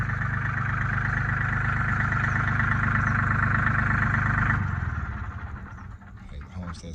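A John Deere 3203 compact tractor's diesel engine idles with a steady close throb for several seconds, then drops off as it is shut down, leaving faint rattles.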